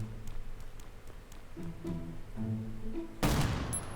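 Gunfire in the mobile survival game Last Island of Survival, a few sharp shots over a low droning background, ending in a louder burst near the close.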